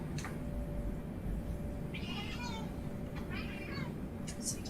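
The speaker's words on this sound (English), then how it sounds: "Maine Coons are one of the most vocal cats you can get" A Maine Coon cat gives two drawn-out meows, one after another, when it is picked up, heard close over a steady low background hum.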